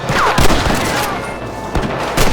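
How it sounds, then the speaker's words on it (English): Several loud, close gunshots ring out while shooting rustlers in Red Dead Redemption on Xbox 360, a quick run of cracks spread across a couple of seconds with booming echoes between them. "Are you gonna shoot any of these rustlers, boy?"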